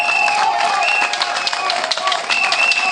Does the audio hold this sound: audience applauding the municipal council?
yes